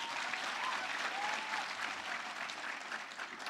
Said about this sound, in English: You need to clap for yourselves for that.